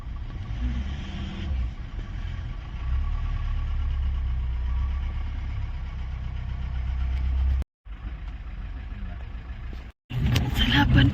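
Vehicles idle in a jam on a single-lane mountain road, a low steady engine rumble filling the scene with voices talking over it, briefly cut by two short silent gaps near the end.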